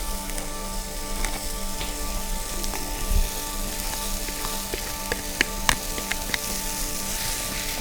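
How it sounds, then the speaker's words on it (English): Batter sizzling in a hot, oiled pan, a steady close crackling hiss that runs throughout with occasional sharper pops. "Listen to that sizzle."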